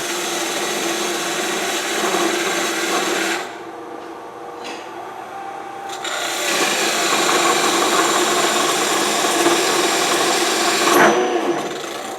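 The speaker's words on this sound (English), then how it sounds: "we'll make a tenon for the piece that's going to be the top" A tenon being turned on a wood lathe for a lidded box gives a continuous whirring motor hum with scraping tool contact, dropping briefly midway and resuming, close and steady without speech.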